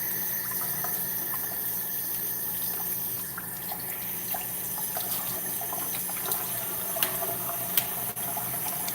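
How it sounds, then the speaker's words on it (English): Kohlrabi rinsed under a running kitchen tap: a steady, moderately loud hiss of flowing water with a few small clicks and knocks near the end, and no talking. "I gotta rinse it, get it going."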